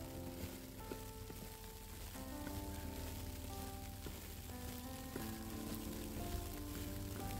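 Wet snow melting into rain patters softly and steadily on an umbrella outdoors in a snowy Vancouver morning, a faint, dense drizzle of small taps with a low background hum.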